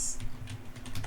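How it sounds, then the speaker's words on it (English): Quick, light clicking of keys on a computer keyboard, a short burst of several taps close up with a quiet room hum underneath. "So we can type it out as this"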